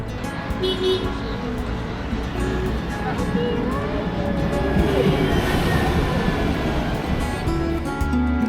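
A tram in Kaohsiung, Taiwan rumbles along its rails with a continuous low roar, faint wheel squeals and a short toot near the start.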